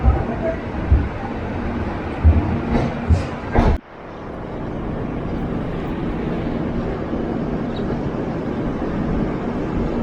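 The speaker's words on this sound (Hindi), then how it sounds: "जैसी ट्रेन निकली" Interior of the LTT Mumbai Lucknow AC Express rolling along, a steady low rumble and rush with a few thumps early on, then a continuous even roar.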